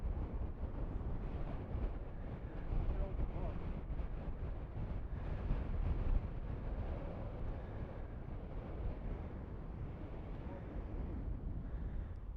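Strong wind buffets a microphone as a rider stands beside a Honda VTX motorcycle after hitting a deer, producing a steady, loud roar of broadband rumble with gusty swells throughout.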